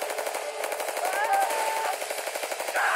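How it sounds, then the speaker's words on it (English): Rapid automatic gunfire in the South Park: The Stick of Truth video game, a steady rattling burst that runs for about three seconds at moderate loudness. "Oh, now they're shooting it."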